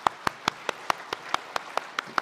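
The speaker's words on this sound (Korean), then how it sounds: "한 번 더 박수를 드릴까요?" A church congregation gives a sparse, slow round of clapping during a Sunday service, about a dozen separate claps spaced evenly, close and moderately loud with no voices.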